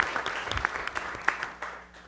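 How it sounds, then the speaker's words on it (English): A short burst of audience clapping at a town council meeting, a loose scatter of hand claps from a modest crowd, fairly close and fading toward the end. "Let's give them another hand clap if we could"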